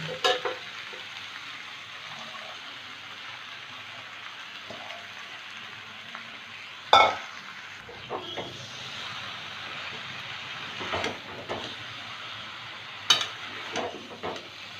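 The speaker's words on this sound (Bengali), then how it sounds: "বেগুনটা দিয়েও দু মিনিট ভেজে নেব" Eggplant and Malabar spinach leaves frying in a pan, a soft continuous sizzle like light rain, close by, with a few sharper clatters and scrapes from stirring; no voices.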